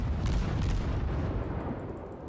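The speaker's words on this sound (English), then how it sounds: "Fire all cannons!" Warship cannon salvo in World of Warships, a heavy booming barrage rolling out loud and close, then fading over a couple of seconds with no voices.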